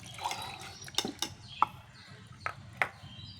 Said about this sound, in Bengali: ডালটা ঢেলে দিচ্ছি